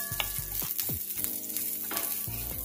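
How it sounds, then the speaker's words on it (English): Onions frying in oil in a pot on the stove for a vegetable and pigeon pea curry, a steady close sizzle broken by several knocking stirs and scrapes, with no one talking. "First, add some oil inside the pot. Then I add my onions."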